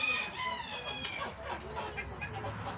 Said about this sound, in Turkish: Burada da bir cins tavuklar var.